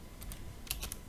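Quiet typing on a computer keyboard: a few soft, scattered keystrokes, a pair near the start and a short cluster later, with no voices.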